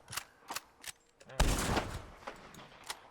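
A bolt-action Cocaine rifle in Red Dead Redemption 2 fires one loud, close shot with a long, broad blast tail. Several fainter, sharp shots come before it, and another two follow.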